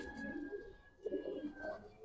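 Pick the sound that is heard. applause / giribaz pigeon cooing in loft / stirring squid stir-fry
giribaz pigeon cooing in loft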